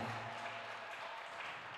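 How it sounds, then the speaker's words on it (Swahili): Church congregation applause during a service, a brief dense patter of many hands clapping at a steady level, heard alone and slightly distant. "basi makofi tena kwa Yesu aliye hai"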